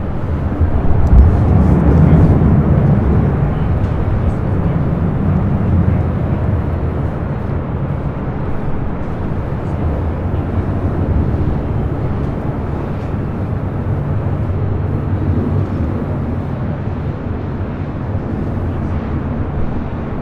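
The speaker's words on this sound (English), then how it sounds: "So of American 777-300ER, this flight heading to London Heathrow" An American Airlines Boeing 777-300ER jet airliner at LAX, bound for London Heathrow, gives a loud, continuous broadband roar that swells early, then holds steady and slightly softer throughout.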